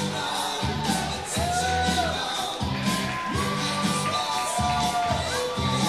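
A packed wrestling-show crowd at an indoor venue fills the space with a continuous roar of chatter, shouts and whoops, steady and fairly loud, under a rhythmic thumping beat of music.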